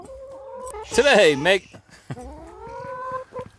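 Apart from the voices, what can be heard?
backyard chickens clucking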